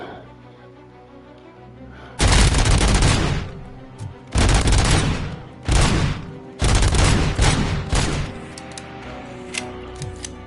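Heavy .50 caliber sniper rifle fire in a Robocop video game, loud booming gunshot bursts in several clustered volleys separated by short pauses, harsh and close, with brief quieter gaps between them.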